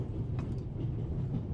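Steady low rumble of the Orient Express rolling along in The Raven Remastered, a continuous train drone with faint higher clatter near the start, no voices.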